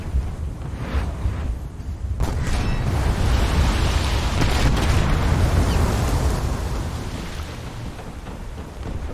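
HMS Hood's 16-inch naval guns firing and shells hitting in a naval warship game, a sudden heavy boom followed by a long, rolling roar of blasts and rumbling impacts, loud and sustained with no voices.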